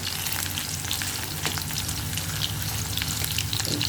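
Potato pieces fry in a pan before ridge gourd is added, giving a loud, dense sizzle with crackling bursts and stirring scrapes, close and continuous with no voices.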